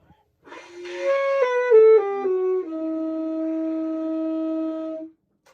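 A solo alto saxophone plays a short run of stepped notes, then holds one long steady tone before stopping cleanly.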